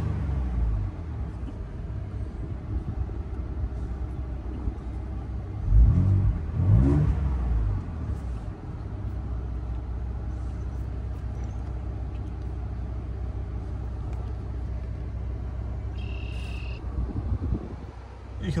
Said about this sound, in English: So you can hear that 3-liter twin turbo V6.